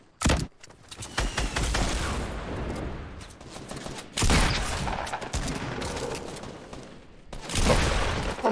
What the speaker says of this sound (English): Shotgun shoot.